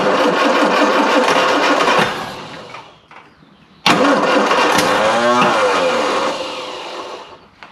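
A classic Mini van engine, off the road for 25 years, cranks loudly and nearly catches, stops briefly, then cranks again with rising, sputtering attempts to fire before fading, up close.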